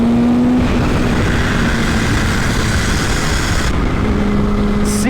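A supercharged Kawasaki H2 motorcycle engine runs loud and close with a dense, steady drone and a held tone that shifts slightly near the end.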